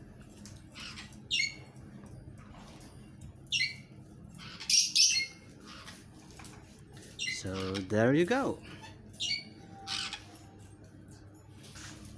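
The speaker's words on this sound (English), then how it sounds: "Different types of parrots that I'm taking care of." Pet parrots, including macaws and cockatoos, let out several short squawks and chirps in a quiet room, scattered through the clip, while someone speaks briefly in between.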